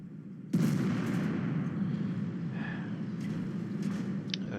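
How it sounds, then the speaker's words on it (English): Artillery shells strike a tank in World of Tanks: a sudden heavy impact, then a sustained low rumble with scattered smaller bangs and metallic crackles, no voices. "Artillery is just lighting us. It's just nailing into us here."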